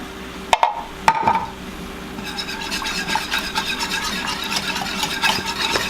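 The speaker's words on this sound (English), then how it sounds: "in with 2 tablespoons of flour, and we're going to mix that just to thicken it up a little bit" A spoon stirs two tablespoons of flour into melted butter and milk in a pan for a mac and cheese sauce, with a couple of sharp knocks at first, then steady scraping strokes close up.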